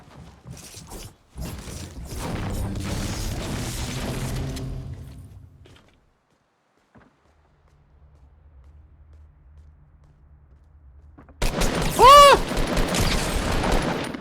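Bursts of gunfire in Fortnite, loud and dense at the start and again near the end, with a quiet lull between them.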